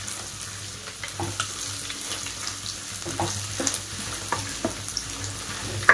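Crushed garlic sizzles and crackles steadily in hot oil in a pan during tempering for spiced puffed rice, a continuous close fry with occasional stirring clicks and no talk.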